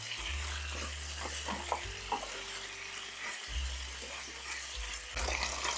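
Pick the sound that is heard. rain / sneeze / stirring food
stirring food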